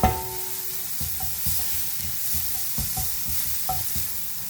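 Leeks sizzle as they sauté in a pan, with a spoon scraping and stirring in regular strokes over a constant frying hiss.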